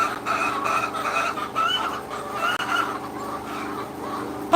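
Dense flock of more than 2,000 layer hens in a pen, a steady mass of overlapping clucks and chatter, loud and continuous throughout, with no speech.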